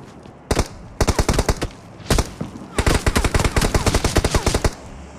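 Automatic gunfire from a mobile battle royale shooter game, played on Samsung phones: several rapid bursts of loud, close shots, separated by short pauses, with a longer sustained stream of fire toward the end.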